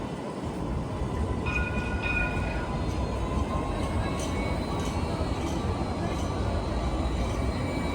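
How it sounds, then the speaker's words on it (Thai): A tram rolls along with a continuous loud rumble and rail noise, with faint squealing tones and light clatter on top, steady and close throughout. "อันนี้เรากำลังจะไปขึ้นรถ รถรางตัวนี้นะคะ"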